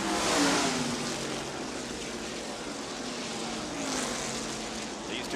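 NASCAR stock cars race past at Darlington Raceway in the 1990 Southern 500, a broad roaring engine wash rising and falling as cars come off the corner, heard at a distance with a commentator talking over it.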